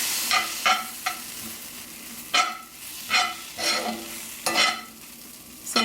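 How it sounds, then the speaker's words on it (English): Breadcrumbs toasting dry in a pan, heard as repeated scraping stirs at irregular intervals with a soft crackle between strokes, close and clear with no voices. "I'm just toasting the bread a little bit"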